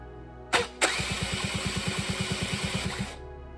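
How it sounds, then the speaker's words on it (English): After a couple of clicks, a Suzuki LT quad engine cranks over in a quick, steady chugging rhythm for a few seconds before stopping, without starting. "set it somewhere and turn your engine over"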